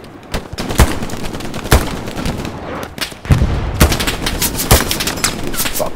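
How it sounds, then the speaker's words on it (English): Rapid bursts of gunfire and artillery blasts in a shooter video game, loud and dense, with sharp impacts recurring about every second over continuous battle noise. "Fuck this artillery."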